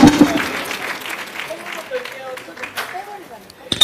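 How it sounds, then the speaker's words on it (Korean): An audience at a Democratic Party emergency rally at the National Assembly in Korea applauds, a loud wash of clapping that fades toward the middle, with a voice speaking briefly over it. "뜨거운 박수로 맞아주시기 바랍니다."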